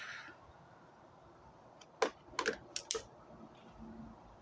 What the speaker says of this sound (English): I'm gonna go ahead and snip that off.